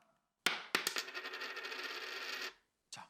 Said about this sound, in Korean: 동전이 떨어지는 그런 소리 같았어요